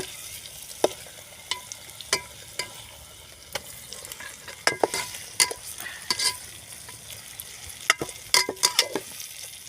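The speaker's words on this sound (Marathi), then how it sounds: "त्यामध्ये आपण ह्या शिमला मिरची सोडून द्यायची आहे आपल्याला मसाल्यामध्ये" Capsicum pieces are stirred and fried in spice masala in a pan over a clay stove. A constant sizzle carries sharp, irregular spoon scrapes and clacks close by.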